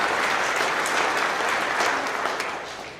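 Audience applause at a company's monthly celebration for new employees, among them a mechanic intern and a tire technician: a dense wash of many hands clapping, loud and continuous, easing slightly toward the end.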